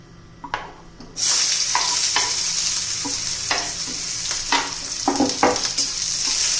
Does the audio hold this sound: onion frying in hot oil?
yes